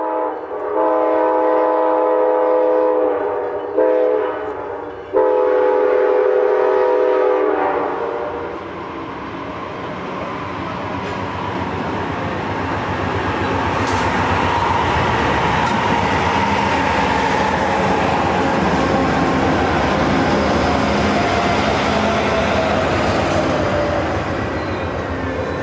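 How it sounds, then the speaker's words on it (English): Amtrak 350, pulling four Superliner coaches, arrives at Jackson Station in snowfall. A loud train horn sounds in repeated blasts over the first several seconds, then a heavy, continuous rumble of rolling rail cars takes over. "Amtrak 350 was arriving at Jackson Station with a train of 4"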